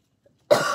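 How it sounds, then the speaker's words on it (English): A single sharp cough bursts out after a stretch of near silence, close and loud, then fades over a short raspy tail; no talking alongside it. "I still have like a bit of a cough."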